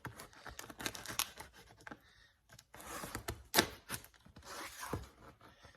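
Heavy packing tape is ripped and peeled off a parcel in several short, harsh tearing bursts with crinkling between them, close and fairly quiet, with a brief pause partway.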